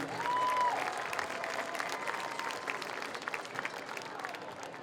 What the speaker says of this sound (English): How about a nice round of applause for Tara Meyer Bailey